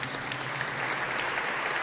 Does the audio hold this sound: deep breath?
no